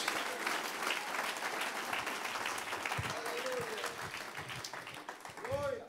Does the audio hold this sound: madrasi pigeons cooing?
no